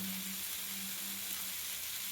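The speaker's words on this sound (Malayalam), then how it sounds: "ഇതെല്ലാം ഇട്ട് വഴറ്റിക്കൊണ്ടിരിക്കുകയാണ്." Onion, ginger, green chilli, curry leaves and tomato sautéing in a pan, giving a steady close sizzle with a faint low hum underneath, continuous and without speech.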